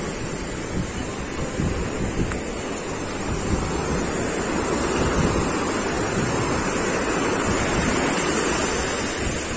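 Steady roar of sea waves on Palolem Beach, Goa, a continuous broad wash of surf with wind noise buffeting the microphone, loud and close, with no voices.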